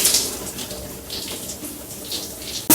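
Tap water runs steadily while a homemade hair treatment is rinsed out, a close, continuous broadband wash with a sharp splash burst at the end.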